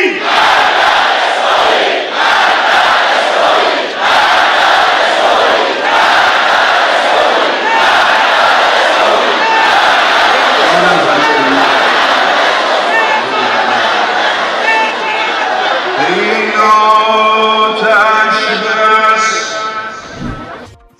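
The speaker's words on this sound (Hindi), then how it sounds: "ईरानी भीड़ ने, ईरानी समुदाय ने, पूरे ईरान ने डेथ टू अमेरिका और डेथ टू इजराइल के नारे भी लगाए" A large Iranian crowd chants Death to America and Death to Israel slogans, a loud, dense mass of voices that roars steadily throughout and ends in a swell of rising cries.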